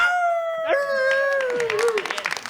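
A man imitates a wolf with his voice: a long, sustained wailing howl rising and then gliding downward over about two seconds, loud and close, followed by scattered applause or clapping at the end.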